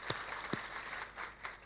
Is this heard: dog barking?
no